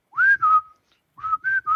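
A person softly whistles a few short phrases of an Imperial marching tune, two clear notes, a brief pause, then three more, close and alone without talk.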